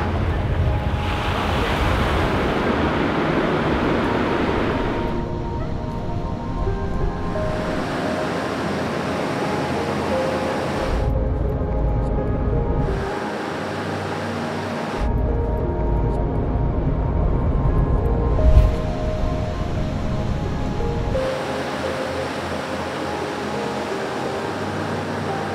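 Surf washing onto a beach in steady, broad swells of roar that build and recede in long waves, heavy with wind buffeting the microphone, and no voices.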